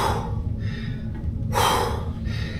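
Heavy, close breathing as someone catches their breath, with two loud gasping inhales separated by a quieter pause over steady low background rumble.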